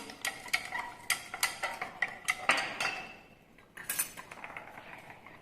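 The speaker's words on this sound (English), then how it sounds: "we need to keep on adding this all-purpose flour. So keep on whisking." A whisk or spoon clinks against a bowl in quick, regular strokes while all-purpose flour is worked into a sticky slime mixture. The strokes pause briefly, then resume. The sound is close and fairly quiet, with no talking.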